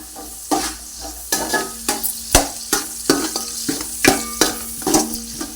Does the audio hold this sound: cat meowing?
no